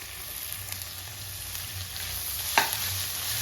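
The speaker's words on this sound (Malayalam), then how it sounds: "ഈ സമയം നമുക്ക് സവോള ചേർത്ത് കൊടുക്കാം." Sliced onions and green chillies hit hot oil in a pan and sizzle steadily, with a sharp clatter of stirring partway through and no talking.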